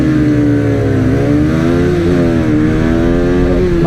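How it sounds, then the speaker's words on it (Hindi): Yamaha R15, Bajaj Pulsar RS200 BS3 and Pulsar 220F motorcycles launch together in a race, their loud engines droning and revving steadily with rising pitch, close and continuous with no talk. "देखो निकल चुके हैं बाइक।"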